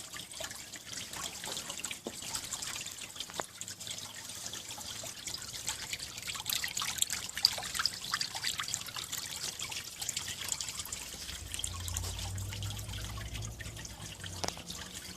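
A disappearing fountain water feature, set in stone over a reservoir, trickles and drips in a steady close stream, with a low hum rising faintly near the end.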